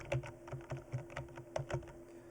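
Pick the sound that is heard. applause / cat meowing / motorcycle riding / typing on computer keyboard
typing on computer keyboard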